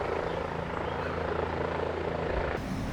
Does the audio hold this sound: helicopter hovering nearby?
yes